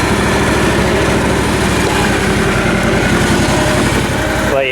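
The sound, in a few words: zero-turn lawn mower engine idling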